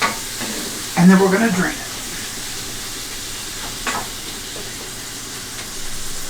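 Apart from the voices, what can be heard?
ground meat with Italian seasoning frying in a pan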